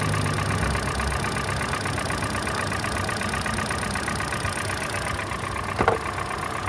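A 2012 Hyundai Elantra engine, worn with some blow-by, idles at a steady, moderate level with a constant low mechanical hum and faint ticking throughout, with one brief sharper noise near the end.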